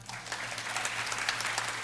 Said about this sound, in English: Can we get a clap for that?